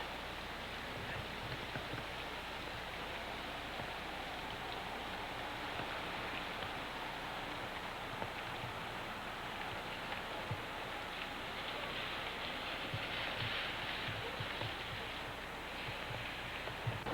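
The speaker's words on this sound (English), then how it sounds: "Rain, rain, rain." Rain falling outdoors in a town square near a bandshell, a steady soft wash of drops hitting surfaces, faint and continuous throughout with no voices.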